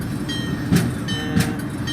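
MBTA commuter train in Train Sim World 2 rolling steadily along the rails on an evening run back to Boston South, a continuous low rumble marked by two heavier clacks of wheels over rail joints.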